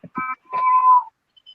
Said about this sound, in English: her kitty has the best meow